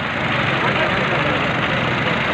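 A tractor engine runs steadily nearby, a loud, continuous chugging rumble with a knocking edge, while voices talk over it.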